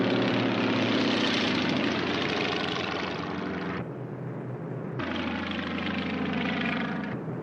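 Drone aircraft engine droning steadily at close range, loud and continuous, with a brief dip in intensity partway through before the full roar returns.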